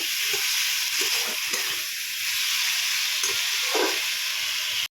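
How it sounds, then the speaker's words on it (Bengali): Fried potatoes stirred in a hot pan for a fish curry, a continuous loud sizzle and hiss with soft scraping stir strokes throughout, ending in a brief sharp knock. "দু মিনিট ভালো করে নেড়ে চেড়ে নেব।"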